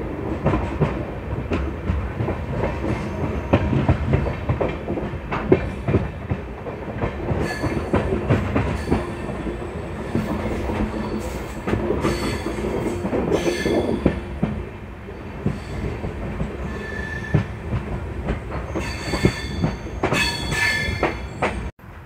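The 14801 Jodhpur–Indore passenger train arrives at Saindra station on a full curve in the Aravalli hills. Loud, continuous wheel rumble and clickety-clack run throughout, with repeated high flange squeals from the curve.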